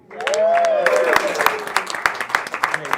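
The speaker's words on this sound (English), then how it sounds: "Give applause for the music." Scattered audience claps come in sharp, distinct bursts at an online live music show, starting just after a voice and a fading musical tone, with individual hits spaced unevenly across the moment.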